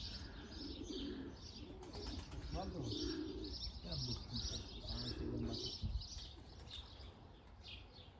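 Tumbler pigeons coo in repeated low, rolling phrases nearby, mixed with higher chirps and faint wing sounds, while voices murmur in the background.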